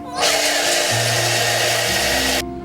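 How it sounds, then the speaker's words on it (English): A blender whirs loudly and steadily as it grinds cashews into nut butter, with the motor pitch dropping partway through as the mixture thickens before it cuts off abruptly. "we're just gonna blend it all up until it is smooth"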